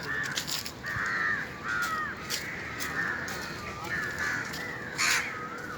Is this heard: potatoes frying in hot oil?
no